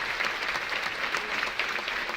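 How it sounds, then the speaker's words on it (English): An audience at a school governing board meeting applauds student board members, a dense, steady patter of many hands clapping that fills the whole stretch at moderate loudness, with no talk over it. "give another round of applause for our student board members"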